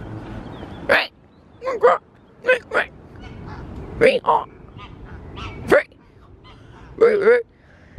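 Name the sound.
ducks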